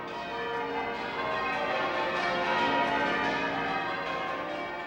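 Anglican church bells ring in change-ringing fashion, a dense, sustained wash of overlapping metallic tones carrying steadily for several seconds without any voices.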